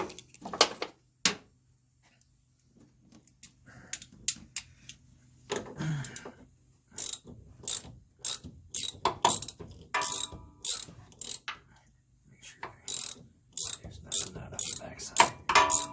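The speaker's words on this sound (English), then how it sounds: "Let me get a ratchet." A hand ratchet clicks in short rapid bursts while bolts are turned during installation of a manual steering box on a G-body car, crisp and close, with pauses and faint handling noises between strokes.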